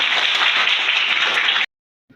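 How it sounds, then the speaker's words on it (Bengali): A classroom audience claps together at a World Teachers' Day poetry recitation, a brisk, even burst of many hands that stops abruptly after under two seconds, followed by near silence. "সবাই সবাই হাততালি দাও।"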